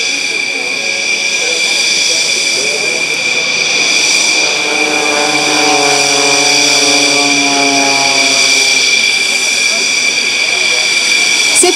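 A Rafale Marine jet sits on the runway at the Le Touquet air show before an aerobatic display, its engines giving a loud, steady, high-pitched whine and roar throughout while an announcer talks over it.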